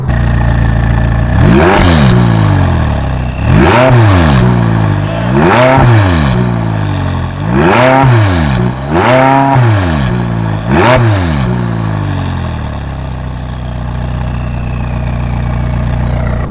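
A McLaren 540C with a sports exhaust revs hard five times in quick succession, each rising roar dropping back, then settles into a loud, steady idle.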